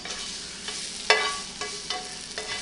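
An egg frying in a pan alongside wild ramps for a bagel sandwich, a soft steady sizzle with one sharp crackle as the egg lands and a few fainter pops after, close and quiet.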